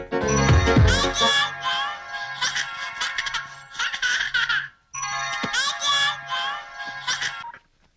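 A phone rings in a comedy scene, its repeating tonal ringtone pulses in steady bursts under music and a laughing voice, with a brief pause mid-clip before the ringing resumes.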